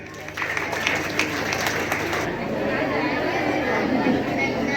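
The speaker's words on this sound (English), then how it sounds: "Please give a big round of applause." An audience applauds at an Independence Day celebration ahead of a children's patriotic song, a moderate, steady round of clapping mixed with chatter and voices.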